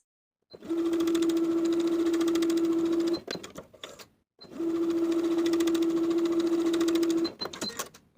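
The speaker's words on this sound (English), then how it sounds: "I'm going to sew gathering stitches from one side to the other within the seam allowance" Sewing machine running gathering stitches along a blouse bodice seam allowance: two sustained bursts of rapid motor-driven stitching, each ending in a few short clattery stops, close and loud with no speech.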